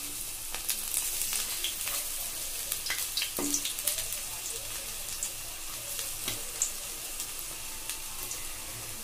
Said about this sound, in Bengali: আমি একটু প্রেস প্রেস করে ভালো করে ভাজবো এগুলো